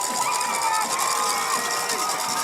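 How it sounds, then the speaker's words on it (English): A high school football crowd at a Central Spartans versus Imperial Tigers game roars and cheers in a stadium, a loud, continuous wall of shouting voices with whistle-like cries rising above it. "And now this crowd is on their feet"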